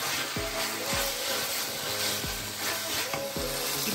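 Noodles with garlic and chilli flakes tossed in a pan over a high flame, steady loud sizzling with repeated rhythmic scraping strokes of the tossing, no talking.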